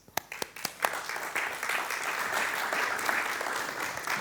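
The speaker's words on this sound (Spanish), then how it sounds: "Le damos un aplauso." Audience applause in a hall at a symposium on heroic viticulture, opening with a few scattered claps that quickly swell into steady, even clapping from a seated crowd.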